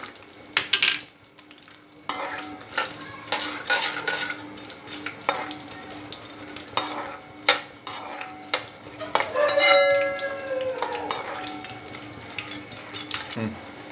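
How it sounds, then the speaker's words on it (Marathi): Peanuts frying in hot oil in a pan make a soft crackling sizzle under frequent scraping and clinking of a metal spoon stirring, close and moderately quiet, with a brief whistling tone midway and no talk. "आपण थोडेसे दाणे याच्यामध्ये तळून घेऊ"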